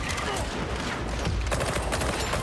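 Rapid overlapping gunfire fills a dense, noisy firefight in the video game Darktide, with snipers firing from a distance, a constant wall of shots and clatter from start to finish.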